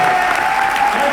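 A town hall audience at Drake University in Iowa claps, a steady, dense wash of applause filling the room throughout the brief moment.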